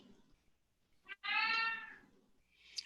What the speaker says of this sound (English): It's just a black cat, but he's really loud